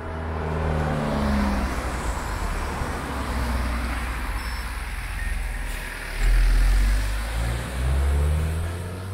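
A car on a mountain road near Sa Calobra on Mallorca approaches and passes close by, its engine a loud, steady rumble that swells toward the end over constant wind noise.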